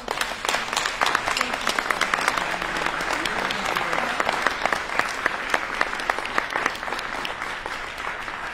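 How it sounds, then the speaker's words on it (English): An audience at a climate policy conference applauds, with sharp, distinct handclaps forming a steady round of clapping that holds for several seconds, a few voices murmuring underneath. "Can we give them a round of applause?"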